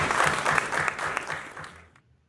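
Audience applause at a cultural programme, a burst of many hands clapping that holds for over a second and then tapers off into silence.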